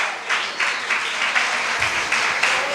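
A church audience applauds during a Spanish-language sermon, a steady wash of clapping with a few louder swells, moderately loud and without talk.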